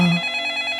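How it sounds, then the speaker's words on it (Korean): A home landline telephone rings before dawn, giving a brief, close, bright electronic trill that pulses rapidly and stands alone. "그러던 어느 날 새벽에 집 전화기가 막 울려대는 겁니다."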